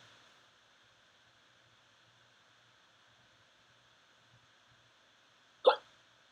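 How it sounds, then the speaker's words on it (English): A single sharp hiccup comes near the end, close and distinct, after several seconds of near silence with faint steady background noise. "Oof, I have hiccups."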